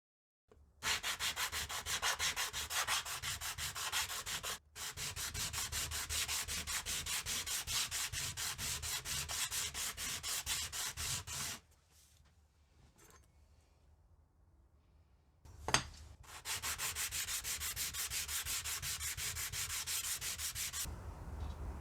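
Rhythmic back-and-forth sanding of a rusty block plane's metal sole on abrasive grits, strokes fast and even, close and loud, in two long runs separated by a quiet pause with one sharp knock.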